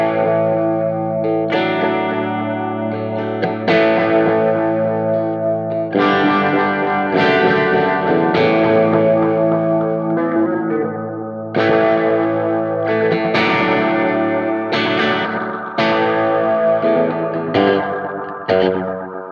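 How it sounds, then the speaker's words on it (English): A Boss DD-200 delay pedal set to a mild analog-style delay with added distortion colours a sustained electric guitar, chords and notes ringing with smeared repeats over nearly twenty seconds, loud and continuous with no talking. "This is a mild analog delay."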